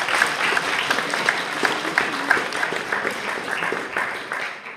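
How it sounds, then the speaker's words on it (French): A live audience applauds a performer named Tom, with steady, dense clapping that fills the room for several seconds and fades slightly toward the end. "On peut applaudir Tom qui a été formidable."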